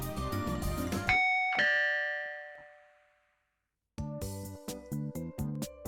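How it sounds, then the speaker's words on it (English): A loud two-tone doorbell chime in Robotics;Notes DaSH rings out and fades into silence, then busy electronic game music starts up. "That was a very loud doorbell."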